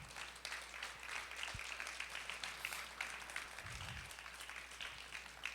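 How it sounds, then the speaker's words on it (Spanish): Steady church congregation applause, a broad continuous patter of many hands clapping, sustained at moderate loudness throughout with no talking. "Dale un fuerte aplauso al Señor."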